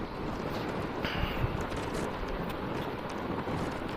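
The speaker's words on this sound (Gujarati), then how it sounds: "જોઈ લો, પવન એટલો હે" Strong wind buffeting the microphone at the Malshej Ghat mountain pass in Maharashtra, a constant low, rough roar with small gusty swells and no voices.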